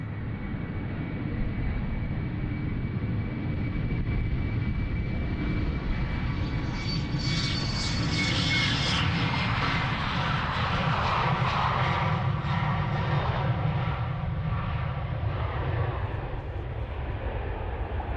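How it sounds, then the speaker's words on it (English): A Boeing 747 at Amsterdam Schiphol Airport gives a continuous loud roar of jet engines that builds to a peak near the middle and then slowly fades as the aircraft moves away. It is heard at a distance with no talk. "Could see that the 747 to Liège was on the move."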